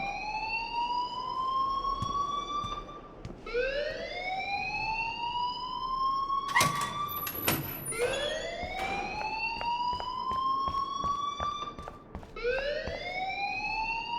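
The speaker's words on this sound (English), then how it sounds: "please turn off that alarm since that's your job" An alarm rings in the Life is Strange video game as a loud electronic whoop that keeps sweeping upward in pitch, repeating about every three seconds, steady and unbroken with no voices.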